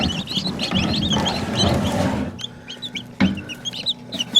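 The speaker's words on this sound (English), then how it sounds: "I have 3 of these little bantam cochins." Bantam Cochin chickens cluck and chatter close by, with soft overlapping murmurs at first, then a few sharper single clucks spaced apart.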